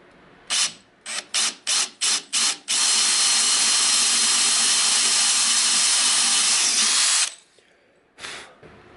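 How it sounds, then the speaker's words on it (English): A Forstner bit drills into a wooden tabletop for a double mortise breadboard end, starting with six short bursts of the power drill, then one long steady whine, then a brief final burst, close and loud. "Okay, so I have my Forstner bit ready."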